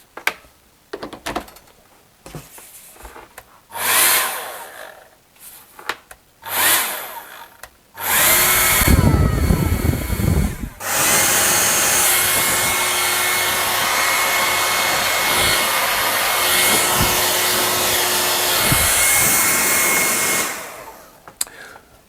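After some clattering and handling noises, a Dyson Supersonic or Panasonic hair dryer switches on with a loud blast and runs steadily for about twelve seconds before cutting off.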